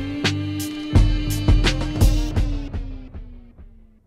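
Tape stop effect built with an analog delay in Studio One, where a rhythmic drum and tonal pattern gradually slows and drags downward in pitch before fading out, heard alone and fairly loud.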